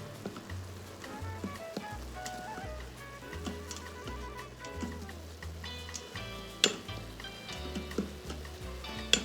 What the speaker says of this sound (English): I'll do all my sauteing here in the Instapot